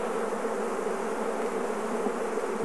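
Honeybees buzz steadily and densely at an opened Langstroth hive during an inspection, a close, continuous drone with no pauses.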